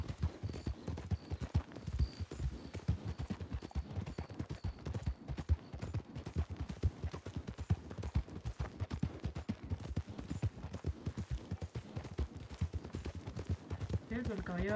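Rapid, steady clip-clop of an Arabian horse's hooves, close and continuous, with people talking faintly underneath.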